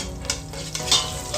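Garlic frying and being stirred in a pan, a short burst of soft sizzling with a few scraping stirs layered over it, close and fairly quiet, with no voices.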